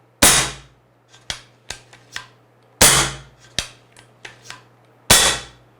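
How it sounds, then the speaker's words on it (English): Daystate air rifle dry-fired during regulator repair to empty the remaining air: three loud, sharp discharges with a lighter mechanical click or two between each, close up and without talk. "just take a couple of shots and make sure there's no air inside of it."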